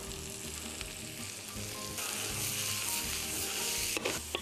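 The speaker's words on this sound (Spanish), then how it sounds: "Esto lo vamos a saltear" Chopped bonito sautés in a pan with olives, a loud, steady frying sizzle that swells partway through, with a brief clatter of the utensil near the end and no talk.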